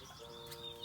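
Lady Gouldian and society finches kept indoors chirp and twitter together in a short, steady flock chatter, fairly close and moderately loud, with no talking.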